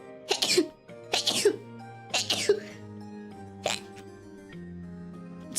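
A person sneezes four times in quick succession, each one sharp and close with a breathy lead-in, while soft background music plays and a short pause follows before a final faint sound.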